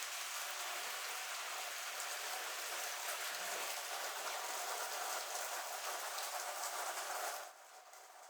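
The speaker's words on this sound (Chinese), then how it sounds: "现在又开始下大雨" Heavy rain pours down in a steady, dense, broadband wash at a constant level for several seconds, then drops off slightly near the end, with no voices.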